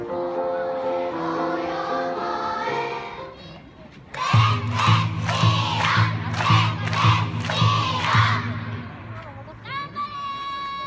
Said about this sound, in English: the whole town comes out to watch and to cheer all of the kids